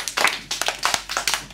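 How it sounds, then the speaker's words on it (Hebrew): An audience claps for the director and musician, a short burst of quick, scattered hand claps close by with no talking. "תתנו מחיאות כפיים גם לעופר, כי הוא גם הבמאי והוא גם המוזיקאי"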